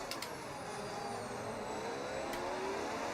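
An F1 race car engine in F1 25 whines steadily at high revs, with a second car's pitch sliding down as it passes, continuous and close for about three seconds.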